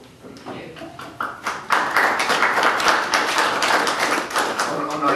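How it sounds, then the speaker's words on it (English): Audience applause at a concert with a symphony orchestra swells from a few scattered claps into steady, dense clapping that holds to the end, with voices underneath. "Oh no, you can't clap till after the concert."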